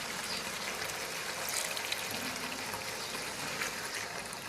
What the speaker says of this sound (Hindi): अब इसमें थोड़ा सा पानी डाल देंगे।